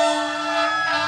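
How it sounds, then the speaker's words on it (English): Loud fire truck siren on a city street in Kyle, Texas, a sustained, steady wail held close and unbroken through the whole short stretch. "you might have really loud fire trucks"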